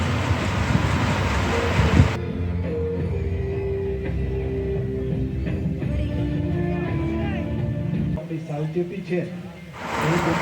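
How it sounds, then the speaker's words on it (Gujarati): Train passing a closed railway level crossing at Lakhtar, Surendranagar, Gujarat, during Independence Day celebrations: a loud, continuous rolling rumble of wagons with wind buffeting the microphone, and people talking throughout. "જો ટ્રેન આવી ગઈ"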